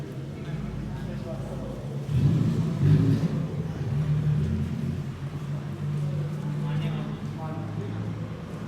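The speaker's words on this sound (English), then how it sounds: "Still more cars rolling in." Cars rolling into an underground car meet in Japan, low engine rumble and revving that swells and fades as vehicles pass close by, with voices in the background.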